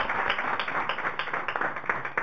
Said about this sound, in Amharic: ይሁን አጨብጭቡለት በደንብ